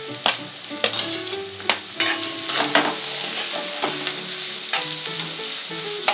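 Onions and brinjal sautéing in a pan for brinjal rice give a steady close sizzle, broken by repeated sharp scrapes and clinks of a stirring spoon against the pan.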